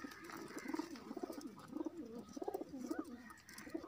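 A pigeon coos softly in repeated low, throaty phrases, fairly faint and steady over a light background hiss.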